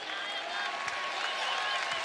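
A home crowd at a Utah Utes basketball game against Iowa in the 2024 NIT second round claps and cheers in a dense, continuous wash of applause filling the arena.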